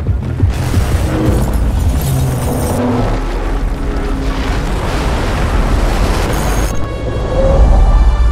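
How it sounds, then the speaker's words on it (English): In a video game trailer, a tower collapses and explodes after its underlying pillars are taken out, producing loud, sustained booming rumble and crashing debris that swells and thunders on without talk. "this whole tower gets destroyed once the underlying pillars are taken out"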